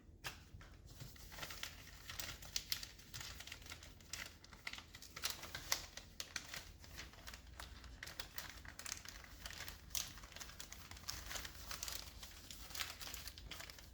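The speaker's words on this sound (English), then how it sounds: "I'm going to squeeze them together, get that fat into all of the bits of paper." Sheets of paper crinkle and crumple steadily as they are rolled, folded and squeezed together into homemade bacon-fat firelighters, a close, continuous crackling with no talking.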